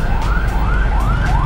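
An ambulance siren wails in rising, repeating sweeps, loud and close amid road traffic, heard from an e-bike.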